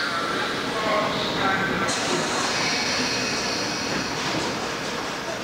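A London Underground train rumbling and pulling away, with a rising whine of motors and rattling carriages, loud and close.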